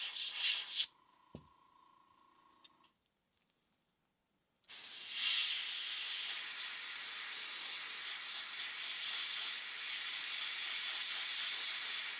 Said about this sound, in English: load up our airbrush with the lighter color brown